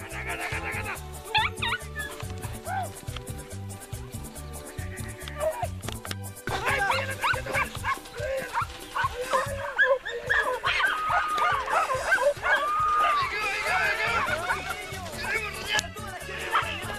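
Hunting dogs bark and yelp steadily during a rabbit hunt outdoors, loud, close and overlapping, while people shout among the barking.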